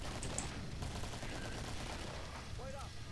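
Gunfire in the video game Killing Floor 2 as the player shoots clots, rapid close shots over a dense, noisy game soundscape lasting a few seconds.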